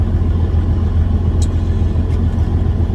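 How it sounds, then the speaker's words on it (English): A truck engine idles while warming up in cold weather, producing a loud, steady low rumble close by without any change in revs. "I'm trying to let my truck warm up."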